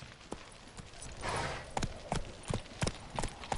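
Horse hooves clip-clop in The Witcher 3, a string of sharp, evenly spaced footfalls at a walking pace, fairly close, with a brief swell of ambient noise partway through and no talk.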